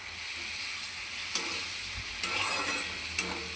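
Dal stirred in hot oil in a pan gives a steady close sizzle of frying, with a few sharp spoon scrapes and clinks against the pan as it is stirred.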